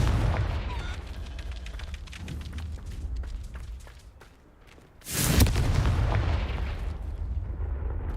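In Hogwarts Legacy, the Confringo fire spell bursts in a loud sudden blast midway through, rising out of a brief lull amid ongoing rumbling game combat noise.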